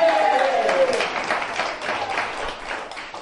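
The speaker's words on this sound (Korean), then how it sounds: "우리 주님 앞에 감사의 박수를 드리겠습니다." A church congregation claps in thanksgiving during a Korean sermon, a dense ripple of applause mixed with voices that fades over a few seconds.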